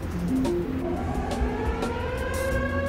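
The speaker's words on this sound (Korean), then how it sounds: "아 이게 이 사이렌이 무슨 용도인지 이제 알겠어." Wailing siren from the real-time strategy game Oil Rush, a rising and falling electronic tone that sweeps steadily upward over a dense, continuous rumble of in-game noise.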